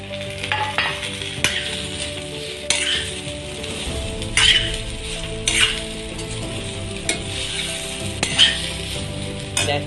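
Potatoes for sabudana khichadi sizzle in a pan while being stirred, with occasional scrapes and clinks of a utensil against the metal, a steady close frying sound without any speech.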